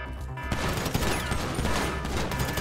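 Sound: gunfire in video game Grand Theft Auto V

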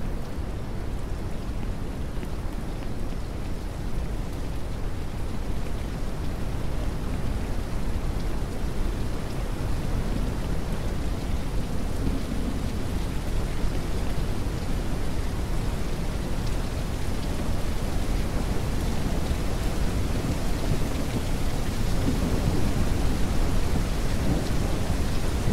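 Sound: rain and thunder in video game Ranch Simulator

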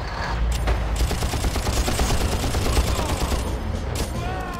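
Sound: sniper gunfire at a checkpoint in Far Cry video game

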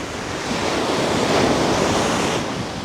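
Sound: ocean waves breaking on the shore

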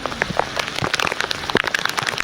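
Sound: rain falling

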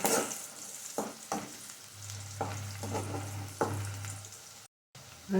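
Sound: onion and tomato frying in pan

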